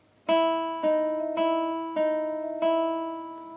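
Five plucked acoustic guitar notes, the opening of Beethoven's Für Elise, ring out one after another at an unhurried pace, each sustaining and overlapping the next, clear and close.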